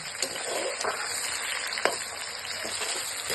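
Onions frying in a pan for homemade local-style chowmein, a soft continuous sizzle and crackle with a few sharp pops and light stirring scrapes.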